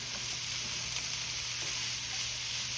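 Corned beef hash sizzling in a pan, a soft, even hiss that runs unbroken and fairly quiet throughout.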